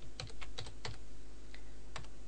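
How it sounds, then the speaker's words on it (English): Fingers tap out a short, quick burst of computer-keyboard keystrokes, close up and fairly quiet, with a few separate clicks trailing after. "So I'm gonna type it in here"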